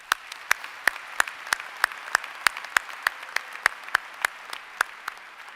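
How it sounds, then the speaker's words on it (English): Faint, steady claps in an even rhythm from an audience applauding special guests at a university School of Management commencement ceremony, heard alone without talk. "Please join me in applauding these special guests today."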